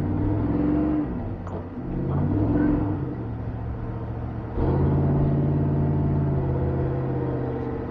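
A truck engine with a 4L80E automatic transmission revs hard and drones, then flares up as the transmission slips in second gear, a loud close rumble that dips and surges.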